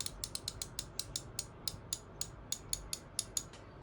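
A Tone Japan ratchet wrench, a new model, clicks rapidly and evenly, a string of crisp metallic ticks close by with no talking.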